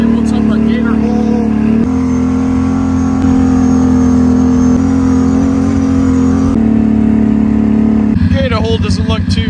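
An off-road vehicle revving at Hog Waller Turkey Bog as it rips through a wet mud hole, a loud, close, sustained engine roar with shifting pitch, rising into harder revving near the end.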